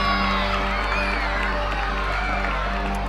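Children cheer and whoop in a crowd at a Los Angeles Rams event after being promised a bike each, a steady, dense wall of excited voices with a constant low hum underneath throughout.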